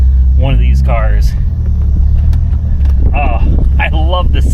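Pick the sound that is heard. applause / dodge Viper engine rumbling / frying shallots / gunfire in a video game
dodge Viper engine rumbling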